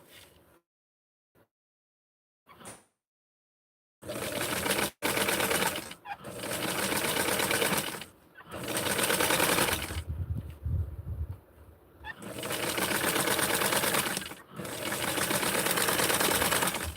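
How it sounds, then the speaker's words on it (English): A sewing machine runs a basting seam on a small doll shirt, whirring loudly in repeated bursts separated by short pauses, close by with no talking over it. "Just going to sew this and then sew it one more time."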